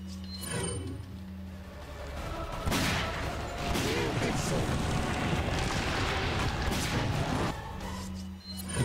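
Rapid gunfire from a boss fight against Salazar in Resident Evil 4, a loud sustained burst of shots and crashing effects filling several seconds, with a voice talking over the game audio.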